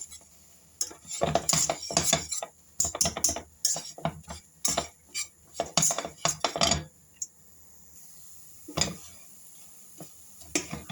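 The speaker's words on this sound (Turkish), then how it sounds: "şöyle iyice karıştırıyorum. Biraz pişene kadar karıştırıyorum." A spoon clatters and scrapes against a pot while profiterole choux dough of water, a pinch of salt, a little sugar and a cup of flour is stirred over heat, giving a close series of irregular clinks and scrapes with brief pauses.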